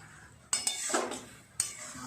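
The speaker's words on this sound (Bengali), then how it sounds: "এবার অনবরত নাড়বো, এইভাবে নেড়ে নেড়ে একদম শুকনো করে নেব।" A utensil stirs taro greens with prawns in a pan, scraping and clinking against the metal in a few distinct strokes with a steady rustle between them, close up and with no one talking.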